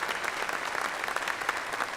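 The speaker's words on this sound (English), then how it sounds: "can you give Megan a round of applause?" Applause for a graduate at a spring commencement ceremony, a dense, steady wash of many hands clapping at once, even in level throughout with no voices standing out.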